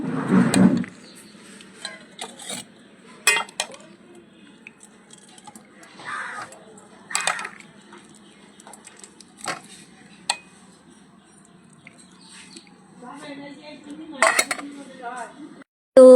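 Metal cookware clinks and clatters as a pot of mixed-vegetable khichuri is taken off the stove, with scattered sharp knocks and scrapes over a low kitchen hum and some talk.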